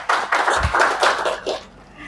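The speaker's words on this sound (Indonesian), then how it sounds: "Beri aplaus dulu buat Ihsan." Audience applause breaks out for Ihsan at a university teaching session, a short burst of clapping mixed with a few chuckles and voices, fading after about a second and a half.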